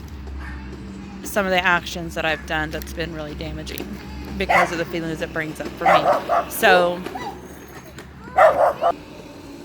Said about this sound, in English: okay, so that was my dog's barking